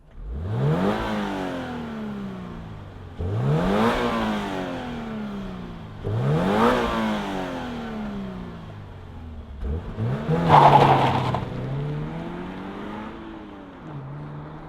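A 2025 Subaru BRZ tS sports car engine fires up and revs repeatedly, four rising-and-falling bursts of throttle over a steady idle, loud and close.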